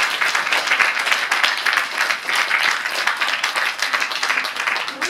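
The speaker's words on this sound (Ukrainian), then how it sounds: "Оплески для них." Audience applause at a school celebration for children and people with special needs, dense continuous clapping from a crowd, steady and fairly loud throughout.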